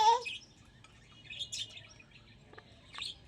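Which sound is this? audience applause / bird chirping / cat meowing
bird chirping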